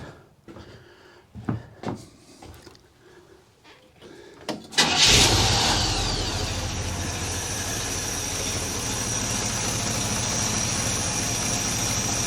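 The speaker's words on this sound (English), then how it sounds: "And I'll start the motor up again." A Buick 225 V6 in a Jeepster with a rough idle: a few clunks and shuffles, then the engine cranks and catches loudly and settles into a steady, slightly uneven idle that runs on to the end.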